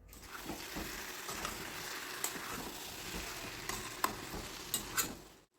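Jackfruit with fried prawns and masala is stir-fried in a pan, a soft steady sizzle with intermittent spatula scrapes and a few sharper clinks against the metal, fairly quiet and with no voices.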